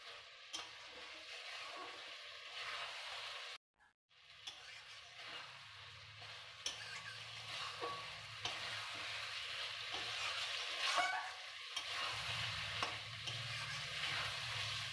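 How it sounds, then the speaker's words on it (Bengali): Mutton curry stirred and fried in a pan, with a soft continuous sizzle and scraping spoon strokes, one brief pause, then renewed stirring and frying noise, fairly quiet and close. "আবারও আমরা 5 থেকে 7 মিনিট মাংসটাকে ভালোভাবে কষবো। সমানে নাড়তে থাকতে হবে, না হলে নিচের দিকে পুড়ে যাওয়ার সম্ভাবনা থেকে যায়।"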